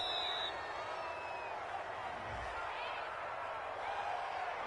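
Stadium crowd in a football video game, a Denver home crowd, reacting to a penalty call with a loud, sustained roar and murmur throughout, a brief low thump near the middle.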